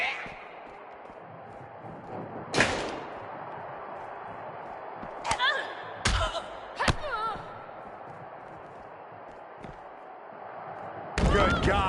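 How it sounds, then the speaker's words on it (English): A body slammed hard to the mat in the WWE 2K22 wrestling game: a heavy thud lands early, then several more sharp impacts crash in over a crowd-like background roar, with commentary talking over the action. "An earth-shaking power slam."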